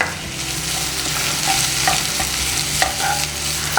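Grated fresh coconut, cashews and raisins sautéing in a hot pan for a rice flour ladoo, with a steady sizzle and frying crackle under repeated scraping and stirring of a spoon, with no voices heard.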